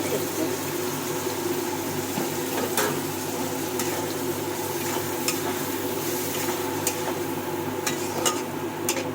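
A spice paste of mustard, green chili and tomato frying in a pan, giving a soft steady sizzle with occasional light scraping clicks from stirring, fairly quiet throughout.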